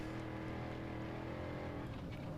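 Off-road race truck engines at the SCORE Baja 500: a dense, continuous engine roar with a steady low rumble that stays constant for a couple of seconds, rather faint and distant, with no talk.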